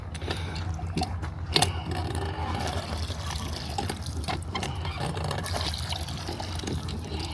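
Water gushes and splashes from an old hand pump well at a historic log cabin village in Fort Worth, Texas, a steady outdoor trickle and pour with faint background noise.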